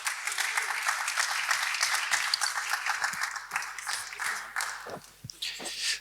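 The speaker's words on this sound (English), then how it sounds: "Give him a round of applause." An audience applauds a speaker taking the stage at a cryptoeconomics conference talk, a full round of clapping that holds steady and then thins into scattered final claps near the end.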